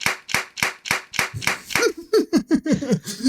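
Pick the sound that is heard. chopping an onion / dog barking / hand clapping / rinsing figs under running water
hand clapping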